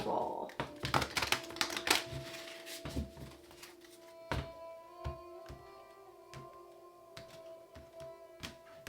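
A deck of tarot cards is shuffled for the last time in a reading, giving quick bursts of papery riffles and soft taps, fairly close, with a voice speaking at times.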